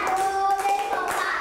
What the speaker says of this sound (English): If you can hear me, clap five times.